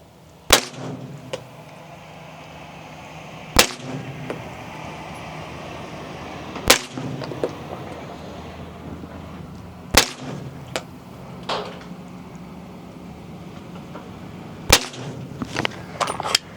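300 Blackout rifle fired at a target, five sharp loud shots spaced a few seconds apart, each followed by short echoing clatter, with a quiet outdoor background between shots and no talking.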